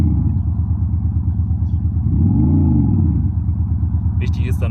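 Engine note of a 3 or 4 Series BMW played through an insidePerformance Active Sound system, a loud, steady low rumble that swells into a brief rev near the middle before settling back, with a faint click toward the end.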